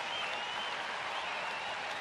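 Steady, distant roar of a baseball crowd at a Cincinnati at Philadelphia game, applauding and cheering a play as one continuous wash of sound.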